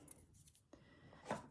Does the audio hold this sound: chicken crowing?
no